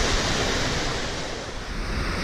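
The waterfall at Seven Falls, Colorado gives off a dense, continuous rushing roar, loud and steady throughout, with gusty wind noise over the microphone and no talking.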